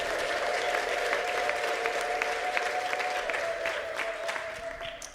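A church congregation applauding and ululating, dense continuous clapping with a high sustained trill running through it, loud and steady throughout.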